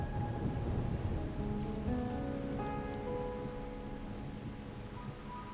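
Rain falls steadily in the video game Wuthering Waves, a soft hiss with faint rumbling beneath and some tonal game music layered on top, fading slightly toward the end.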